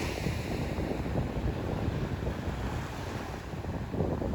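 Atlantic Ocean surf and strong wind on the winter beach at Cape Henlopen, where Delaware Bay meets the ocean, form a steady, loud, broad roar with heavy wind buffeting on the microphone and no talk.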